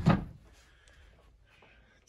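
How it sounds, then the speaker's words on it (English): A grey six-drawer children's dresser drawer slides out with a single short thump and scrape right at the start, then only faint rustles follow in a quiet room. "take out all the drawers."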